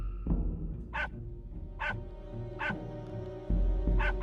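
Small, bright dog barks from the Bertram Fiddle adventure game, four short yaps spaced about a second apart over a steady background music bed.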